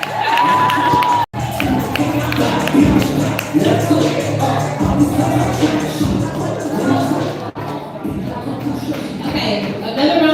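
A live crowd at a motivational event cheers, whoops and shuffles continuously at close range, with voices shouting over the broad roar and the occasional burst of clapping mixed in.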